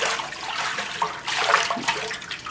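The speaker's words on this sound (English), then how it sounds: "And I just rinse it out. And then dump this into a 5-gallon bucket." Water sloshes and rushes steadily while a soap-making tilting pot is rinsed out, with a continuous broad splashing close by and no talking.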